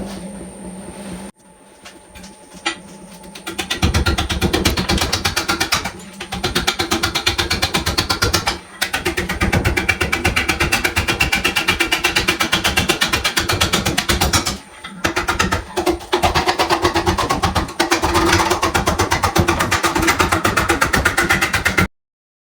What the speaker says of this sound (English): I left the sound up on that section just so you get a better feel for what it's like when I'm roughing out